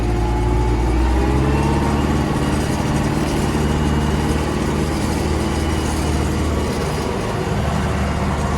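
An MTZ 82.1 tractor ploughing in sixth gear with the front axle engaged gives a steady, loud, continuous engine drone with low rumble throughout, no talk over it.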